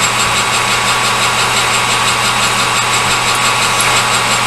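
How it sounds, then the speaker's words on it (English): A lathe runs steadily while drilling a center hole, giving a continuous, even mechanical hum with a faint high whine, loud and close with no pauses or talking. "Just drill that pit right there."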